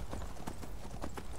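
Horse hooves clip-clop at a steady riding pace in the video game Skyrim, with fairly close, quiet rhythmic hoofbeats repeating alone.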